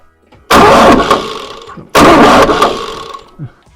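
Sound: tractor engine cranking and starting

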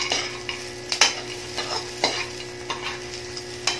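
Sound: peanuts being roasted and stirred in a pan

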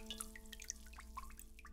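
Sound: water dripping from pierced pipe in video game Homesick

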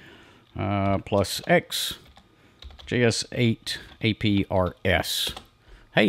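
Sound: typing a terminal command on a computer keyboard

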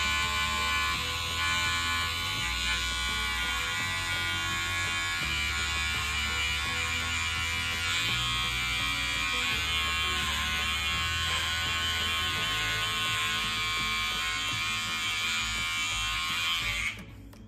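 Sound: electric beard trimmer cutting hair bangs

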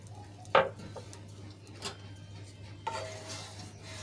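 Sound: stirring in a pan

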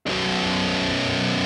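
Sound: metal guitar chug on low string tuned slightly flat

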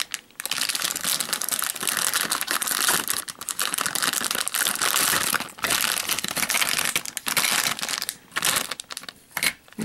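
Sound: cutting open a plastic toy bag

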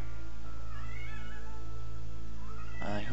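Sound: cat meowing

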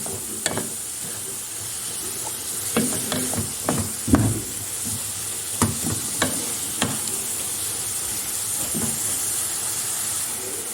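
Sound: stirring leeks with red pepper flakes in a pan

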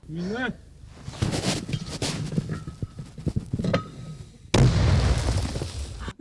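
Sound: 120 mm mortar firing

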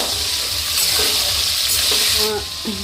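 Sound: tomatoes frying in pan for khichuri

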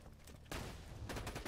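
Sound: machine gun firing in Borderlands 2 video game

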